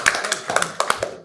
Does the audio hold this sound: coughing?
no